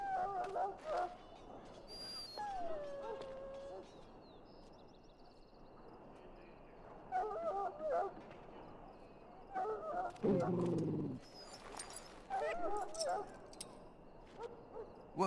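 A hurt dog in the fantasy video game Dragon Age gives whimpers and whines in short separated bursts with a low growl-like bark near the middle, fairly faint over quiet ambient game sound.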